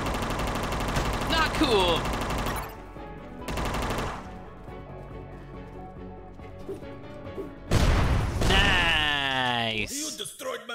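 Bursts of machine gun fire from the retro-style game UnMetal rattle in several loud volleys, separated by quieter stretches with game music and effects, while a man exclaims over the action.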